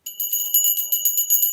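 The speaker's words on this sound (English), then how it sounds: "So let me ring a bell for that." A handheld bell is rung repeatedly in quick bursts, bright ringing tones pulsing in a steady shaking rhythm, close and clear with no voices.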